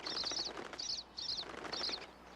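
Pine siskins around a thistle seed feeder, a few rapid bursts of high twittering chirps and wing flutters, fairly faint and close, in short clusters with brief gaps.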